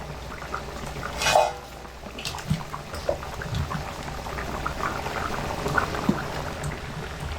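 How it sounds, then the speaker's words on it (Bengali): Soybean muitha dumplings simmer in gravy, giving a steady soft bubbling and crackle with occasional brief clinks of a utensil against the pot. "মুইঠাগুলো ঝোলের মধ্যে দিয়ে 2 থেকে 3 মিনিট সময় ধরে ফোটানো হয়ে গেছে"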